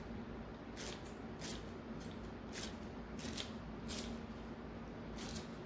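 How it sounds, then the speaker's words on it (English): Green onions are cut for a sushi bake with a series of faint, crisp snips, about nine quick cuts in an uneven rhythm close by in a quiet kitchen. "I think I'm just gonna see what we get out of cutting the green onions"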